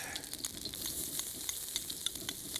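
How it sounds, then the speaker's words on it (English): Chopped onions sizzle in a hot pan with a beer-laced fillet of seal strips, a steady fine crackle with occasional louder pops, close and continuous without talk. "Then we'll add a few chopped onions into that"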